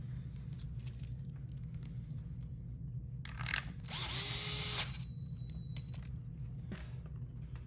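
A power tool briefly whirs while tightening bolts during a Badger Wheel and FlightFins tail rails install: two short bursts midway, the second longer, over a steady low background hum.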